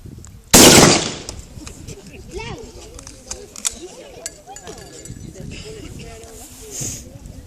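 A blank round is fired once, a single sharp loud bang near the start that fades quickly, followed by outdoor rustling and voices talking.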